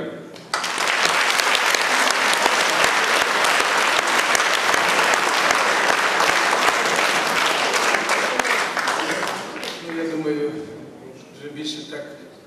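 A concert hall audience breaks into loud, dense applause that holds steady for about nine seconds before fading, after which a voice speaks over the dying claps.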